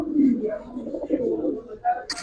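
A pair of Giribaz pigeons coos in low, soft, throaty warbles at close range, mixed with nearby talking.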